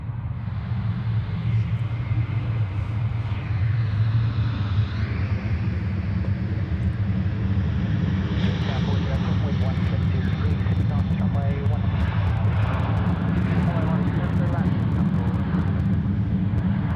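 A Qantas airliner takes off from runway 16 left at Sydney Airport, its engines building into a loud, steady, broadband roar and low rumble that holds throughout, with a voice talking over it.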